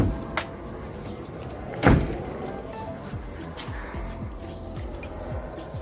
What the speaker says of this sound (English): I'm gonna close the door here just so you can see.